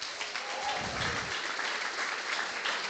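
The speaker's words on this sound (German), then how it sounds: "Und den zweiten Applaus für Bishaka." Applause from the audience at a live prompt battle event, a brief steady wash of clapping heard at a moderate distance.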